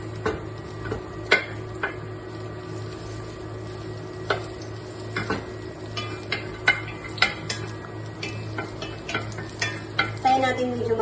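Garlic browns in a hot pan with a steady crackling sizzle, broken by repeated clinks and scrapes of a utensil stirring it close up, rising to a louder crackle near the end.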